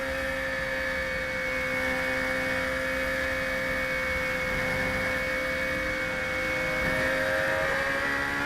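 Radical class race cars at Circuit of the Americas drone past with a loud, steady engine whine that sustains throughout, a second engine tone rising faintly near the end.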